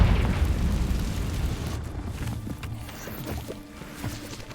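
Confringo blasting spells explode in the Hogwarts Legacy video game, one loud booming burst at the start trailing into rumbling game noise and smaller thuds, with no talk over it.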